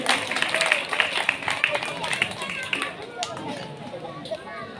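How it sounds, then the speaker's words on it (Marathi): Crowd applause and clapping at a school Independence Day prize-giving in a village, with steady dense claps fading slightly toward the end while voices murmur underneath. "जोरदार टाळ्या लागण्याच्या आहेत"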